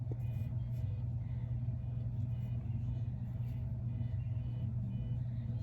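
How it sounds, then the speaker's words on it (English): A car passes, heard as a steady, loud low engine rumble with road noise that fills the whole stretch, no talking over it. "That's a car."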